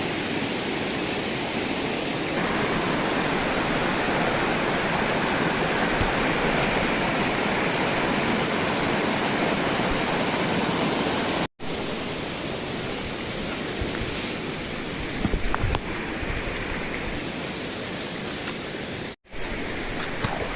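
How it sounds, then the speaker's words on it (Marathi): Somnath waterfall in a forest roars as a dense, continuous rush of falling water, loud and close, with no voices, briefly cut twice. "मस्त धबधबा आमचा वाहत आहे"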